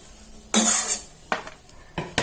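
Fried coconut pieces clatter as they are moved from a pan onto a plate in a home kitchen, with a bright metallic scrape followed by a few shorter clinks of utensil against dish.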